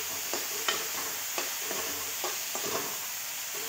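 Spoon stirring tomato chutney with fresh coriander in a pan, several soft scraping strokes at an uneven rhythm over a steady low sizzle, close and fairly quiet, with no voices.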